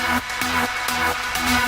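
Uplifting trance synth lead in FL Studio plays a bright, repeating rhythmic pattern of short pulsing notes, loud and steady, with no voices.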